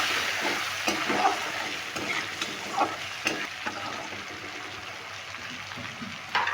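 Bhola fish frying in hot oil with turmeric powder, a steady loud sizzle under repeated scrapes and knocks of a stirring spatula in the pan, close and continuous.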